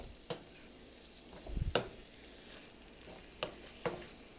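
Stuffed-pepper filling sizzles and fries in a pan while a spoon stirs it, a soft steady crackle broken by a few sharp scraping clicks and a low rumbling stir, with no talk.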